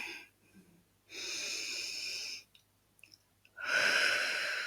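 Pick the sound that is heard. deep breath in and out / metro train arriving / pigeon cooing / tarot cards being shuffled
deep breath in and out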